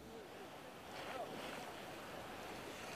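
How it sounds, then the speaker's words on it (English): Hurricane Sandy's record storm surge churns through New York Harbor as a steady roar of surf and buffeting wind noise, swelling louder after the first second. "This is a record surge of water, Diane, that we're witnessing right now."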